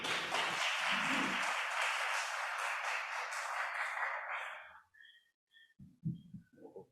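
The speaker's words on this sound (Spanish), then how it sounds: "Recibamos con un fuerte aplauso a Lucho, por favor." An audience at a book colloquium applauds loudly and steadily for about five seconds, then the clapping cuts off, leaving quiet room noise and a few soft thumps and voices.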